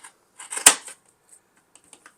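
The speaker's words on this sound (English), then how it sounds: "we want to take a pair of scissors and trim off the excess to 1/4 inch outside that seam" Scissors snip off excess fabric outside a seam while a microwavable bowl cozy is being sewn. A short cluster of close, crisp cuts peaks in one sharp snip, then a few faint clicks follow.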